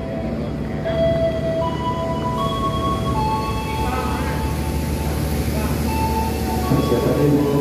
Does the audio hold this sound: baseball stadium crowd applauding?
no